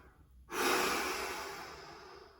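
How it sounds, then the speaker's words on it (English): A deep breath out through the mouth during a conditioning workout, one long close airy exhale that begins abruptly and slowly fades over about two seconds. "pull them back and down as you breathe out through your mouth"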